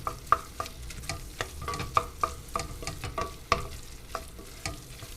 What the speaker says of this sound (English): So I'm going to stir that in and kind of cook some of that raw taste out of the onion